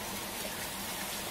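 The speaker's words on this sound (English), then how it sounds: "First it rains." Spring rain sound effect in the Pocoyo PlaySet learning game, a soft, steady patter of falling rain heard alone.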